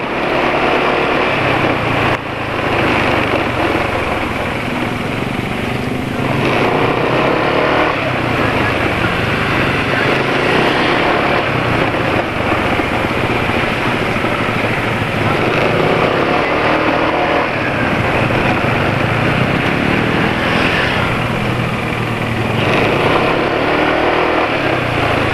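A motorcycle engine running on Meditran SX Ultra oil drones steadily and close throughout, the revs swelling and easing in slow waves as the bike rides along, with a rider speaking intermittently.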